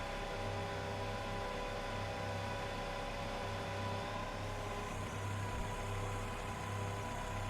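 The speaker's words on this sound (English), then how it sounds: "That Toyota noise, man." A Toyota car in the Forza Motorsport 4 video game gives a low, steady engine drone, faint and unchanging throughout, like idling or light cruising, with no talk.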